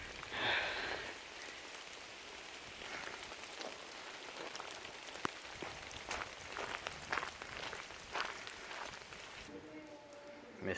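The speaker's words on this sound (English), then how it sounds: "Misty, rainy day." Steady rain falls in the video game Kingdom Hearts III, a continuous hiss with scattered drip-like ticks throughout, ending with a softer change near the close.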